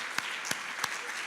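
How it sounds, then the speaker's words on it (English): Audience applause at a justice symposium lunch plenary, a moderate wash of clapping with a few distinct louder claps standing out, heard at some distance in a large room. "just a huge round of applause to John and Kate and Venu and the entire team"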